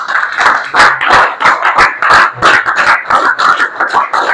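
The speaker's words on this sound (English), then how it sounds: "Give him a big round of applause." A Grade 10 class gives a round of applause after a student presentation, loud, close, uneven claps bursting in quick succession without letup.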